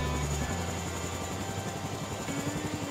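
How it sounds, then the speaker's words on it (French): Helicopter in the game DayZ, a steady droning rotor and engine hum at an even level, with no breaks over the few seconds. "Ah, je suis up dans l'hélico."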